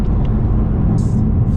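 A 460 bhp Ford Mustang GT on air ride, its engine a steady loud low rumble throughout, with no clear rise or pass.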